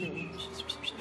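A few quick, high bird chirps repeat in a short burst over a steady background of other sound.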